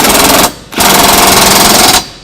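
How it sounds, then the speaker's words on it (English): A cordless impact wrench with a 19 mm socket drives trailer hitch bolts tight on a 2019 Toyota Highlander, giving two loud rattling hammer bursts split by a short pause, with a faint click at the end. "I'm going to use my cordless impact and tighten them down"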